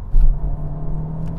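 Toyota GR Yaris and Honda Civic Type R accelerating hard side by side in a drag race, a loud steady engine roar with a deep rumble from launch, holding strong throughout without pause.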